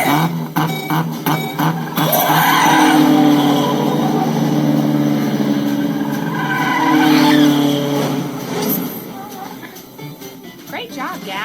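Animated Minecraft race cars roar past with loud, sustained engine revving and tire screeches, mixed with game-style sound effects and a voice commenting.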